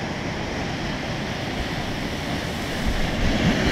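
Ocean waves break on an icy shore in brutal cold, a continuous close rushing roar that swells slightly louder near the end.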